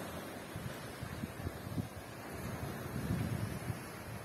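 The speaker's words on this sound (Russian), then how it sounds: "Шум прибоя, только волны" Gentle sea surf washes steadily onto a Crimean beach at sunset, a soft, continuous rush of waves with light wind noise and no voices.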